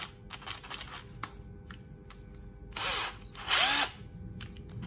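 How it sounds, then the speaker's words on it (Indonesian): A Bosch GSB120-LI Gen 2 12V cordless drill tightens a fastener in two short whirring bursts, the second louder, preceded by faint clicks and handling noise, with no talking. "Kita boleh ketatkan menggunakan drill ni."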